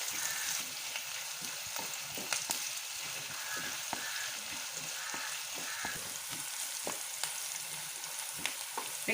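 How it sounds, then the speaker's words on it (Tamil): Sliced onions sauté in hot oil in a pan, giving a steady close sizzle and crackle with occasional scraping and stirring clicks from a utensil throughout. "வெங்காயம் வந்து நல்லா வதக்குங்க"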